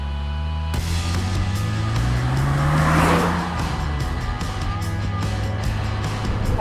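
A BMW Clownshoe drives a sweeping, undulating woodland road in western Massachusetts, its engine droning steadily and loud throughout with a rising surge of revs near the middle and constant road and wind rush.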